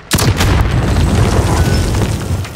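A loud, sustained boom from an RPG explosion in the video game Warzone, hitting suddenly and rolling on as a thick roar that fills the whole moment with no speech.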